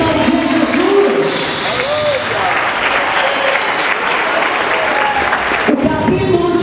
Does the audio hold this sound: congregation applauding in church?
yes